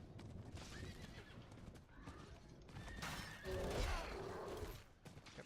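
A horse in the video game Diablo 4 whinnies clearly in the middle of the clip, with clip-clopping hooves and game combat noise around it, fairly quiet overall.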